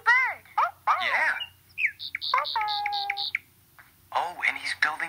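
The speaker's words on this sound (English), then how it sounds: "The sound of a bird." A bird in a children's cartoon calls with a series of bright, tonal chirps and squawky whistles, clear and close, with short spoken voices before and after the calls.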